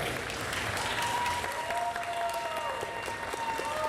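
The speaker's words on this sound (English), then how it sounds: "Let's give her an applause at this time" A crowd at a North Charleston City Council meeting held at the sports complex applauds the First Lady, a steady moderate wash of clapping with faint voices and tones underneath.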